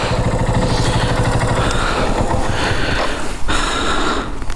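Several motorcycles idle and rev together on a rough road near the water at Bholaganj Sada Pathor, a dense, continuous engine drone close by with no talk.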